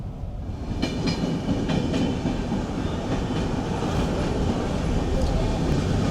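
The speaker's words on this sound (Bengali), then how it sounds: "দেখা আপনাদের ট্রেনও দেখিয়ে দিলাম" A passing train bound from Bangalore to Guwahati rolls by close and loud, its steady rumble carrying rhythmic clickety-clack wheel beats throughout.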